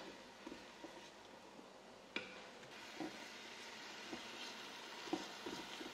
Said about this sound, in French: vous venez mélanger avec votre spatule pour bien imprégner l'oignon avec l'huile d'olive